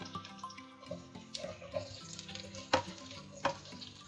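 Capsicum and white onion fry lightly in a pan with a soft, steady sizzle broken by clicks and scrapes from stirring. The sound is quiet and close.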